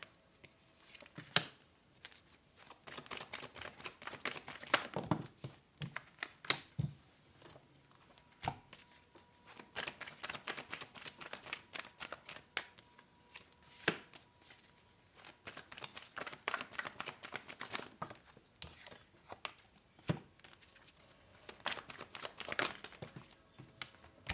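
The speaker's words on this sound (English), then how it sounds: "let's pull out a few more cards, guys, and see." Tarot cards being shuffled and handled make close, irregular crisp flicks and papery riffles in quick clusters with short pauses between, fairly quiet and with no talk.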